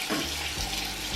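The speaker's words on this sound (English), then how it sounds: "I'm getting the water warmed up" Bathroom tap running steadily as water warms up for a bath, a close, continuous rushing splash into the tub or sink.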